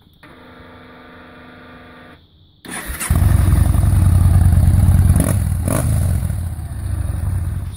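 A Yamaha Bolt XV950 motorcycle idles with a steady low thrum, then revs loudly and roars off, its engine growling close and strong with sharp throttle bursts.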